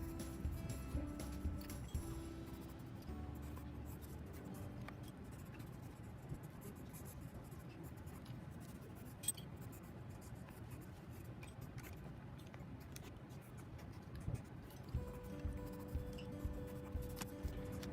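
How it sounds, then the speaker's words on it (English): Steady scratchy rasp of colored pencils moving across paper, continuous and close, with a few faint ticks along the way. "I colored in, pressing down with my pencils"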